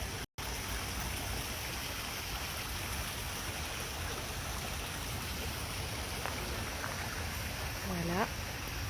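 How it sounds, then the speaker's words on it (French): Running water flows in a steady, continuous rush close by, a broadband wash that stays even throughout with faint chirp-like sounds near the end. "je vous montre un petit peu l'eau qui coule."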